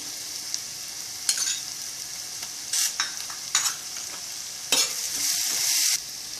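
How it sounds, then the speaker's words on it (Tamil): Spices and vegetables for vegetable biryani, seasoned with turmeric, chilli and coriander powder, sauté in a pan. Steady sizzling runs throughout, broken by several louder bursts of scraping and stirring, with no talking. "இப்போ நல்லா வதங்கிடுது"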